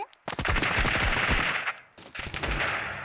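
Desert Eagle pistol fire in the Counter-Strike video game comes as loud, rapid, sharp shots in two close bursts separated by a brief pause.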